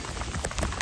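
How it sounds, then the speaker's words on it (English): Rain mixed with hail falls outdoors onto a walker in a waterproof jacket during a thunderstorm, a dense steady hiss with scattered close pinging impacts and no talking. "It's now hailing. Might be able to see it pinging off me."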